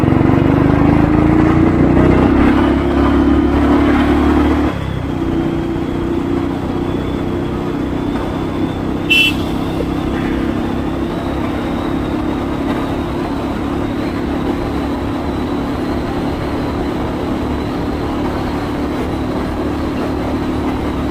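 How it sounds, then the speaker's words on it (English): A Royal Enfield Thunderbird 350X motorcycle accelerating from standstill toward 100, its engine droning loudly with a rising pitch for the first few seconds, then settling into a steady, rushing ride noise with heavy wind. "So I'm just gonna show you how much time will this bike take to go from 0 to 100."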